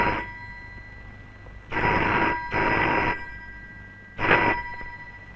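A telephone rings in three separate bursts, two close together and then a third after a pause, over a quiet room in a Malayalam film scene. No one speaks.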